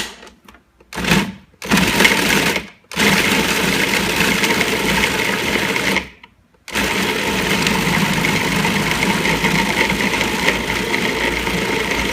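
Food processor whirring steadily while blending figs, dates and nuts in a home kitchen, running in several short bursts with brief stops before settling into a continuous loud drone.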